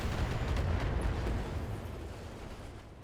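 Mech weapons fire in the BattleTech video game, a heavy booming burst with rumbling low-end that swells at the start and slowly fades.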